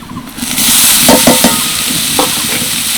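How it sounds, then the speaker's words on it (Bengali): Grated potato and carrot fry loudly in a pan while being stirred, a dense close sizzle that swells after a quiet start, with several scraping stir strokes over the hiss and no talking. "আলু আর গাজর দিয়ে একটু নেড়ে চেড়ে নিলাম"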